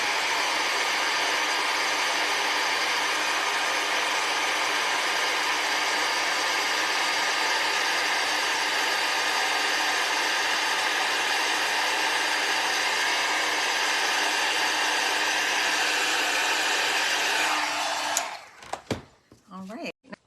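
Heat tool blowing on embossing powder on a card, a steady loud whooshing fan hiss running continuously for about eighteen seconds before being switched off with a few clunks.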